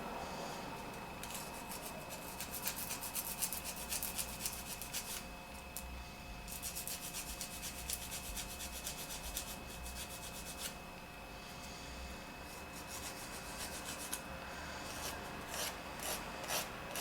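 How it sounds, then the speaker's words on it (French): Sanding excess hardened fiberglass: a close, steady scratchy rasp of repeated back-and-forth strokes that goes on continuously at a fairly quiet level, with no voices. "Et là je vais juste avoir à poncer tout ce qui dépasse"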